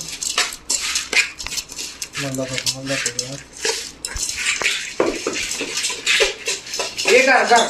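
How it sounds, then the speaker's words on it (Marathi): Chinese bhel being mixed in a bowl with cutlery, with irregular clinks and scraping stirs spread through the clip, close and moderately loud, while a voice or brief tonal sound cuts in midway. "आणि इकडे आता मी मिक्स करतो."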